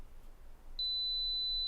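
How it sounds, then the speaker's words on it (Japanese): A camera's two-second self-timer gives a single steady, high electronic beep that starts partway through and holds to the end. The beep is clear against a quiet room. "シャッターは2秒タイマーでやってます"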